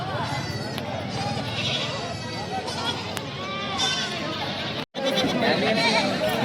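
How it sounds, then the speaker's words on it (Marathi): Goats bleat several times at a busy livestock market among goats and bucks, close and distinct above a crowd's steady chatter, with people talking throughout. "शेळ्या पण चांगल्या नवाट आहेत बघा तुम्ही बघू शकता."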